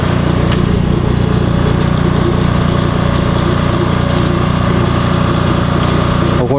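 A small engine drives a submersible water pump, running loud and close as a steady unbroken drone without pauses.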